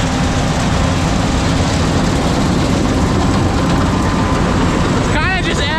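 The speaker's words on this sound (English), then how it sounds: "Oh, you can hear that engine working." A combine harvester engine drones loudly and steadily throughout, a thick low rumble with machinery clatter on top, working hard through tall weeds nearby.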